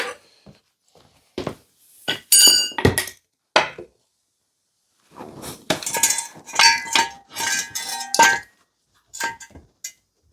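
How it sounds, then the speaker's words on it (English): A Honda NTV650 swing arm falls off an axle stand in a workshop, a jumble of loud metallic clangs, clinks and thuds in two bursts with short silences between them. "the swing arm that's just been on an axle stand, fell off the axle stand and bent the bracket for the battery"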